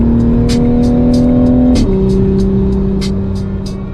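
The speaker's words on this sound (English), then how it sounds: "I just wanted a louder exhaust than mine with the right tone" A loud Toyota Supra aftermarket exhaust rumbles steadily at close range, its deep tone dropping in pitch partway through as the revs fall.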